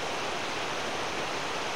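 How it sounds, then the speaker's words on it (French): A river stream fed by a waterfall high in the Ardèche mountains rushes in a dense, steady wash of water noise, close and loud, with no voices over it. "nous avons là ce bras qui provient d'une cascade qui est là-haut"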